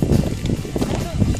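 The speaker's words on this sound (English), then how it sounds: "It's really windy here" Loud, low wind rumble buffets the microphone continuously, with a voice faintly audible underneath.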